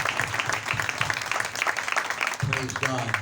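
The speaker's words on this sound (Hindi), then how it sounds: "आइए तालियां बजाकर हम इस गीत के लिए शुक्रगुजारी करेंगे।" A church congregation claps together after a worship song, quick overlapping handclaps over a low musical drone, with a voice speaking through the applause.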